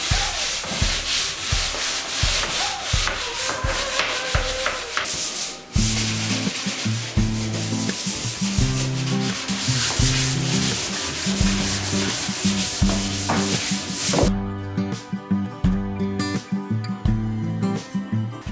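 Steady rhythmic sanding strokes on wooden cabinet doors, a continuous rasping scrape repeating back and forth, joined midway by a low droning machine hum.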